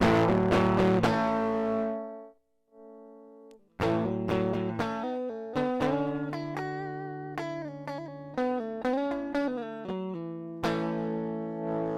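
Electric guitar played through a distortion pedal with the gain turned down: sustained chords and picked notes ring out clearly on their own, with a short quieter pause before a run of repeated strummed chords.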